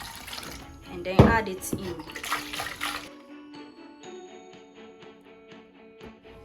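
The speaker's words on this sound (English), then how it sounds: "I'll rinse the blender with some water" Running water splashes loudly into a blender being rinsed for a few seconds with a short spoken remark over it, then gives way to quieter trickling and clinking.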